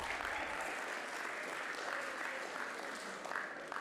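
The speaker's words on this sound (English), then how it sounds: "Why are we not clapping?" Steady, dense applause from a school audience honouring award winners at a reading motivation week ceremony, filling the whole stretch at an even level with no voices over it.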